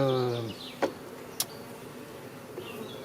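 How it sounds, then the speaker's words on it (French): Honeybees at an apiary hive, with few bees present: a brief droning buzz opens, then fades into a quiet, airy background broken by a couple of soft knocks. "il y a très peu d'abeilles"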